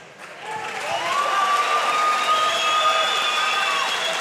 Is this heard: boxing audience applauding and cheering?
yes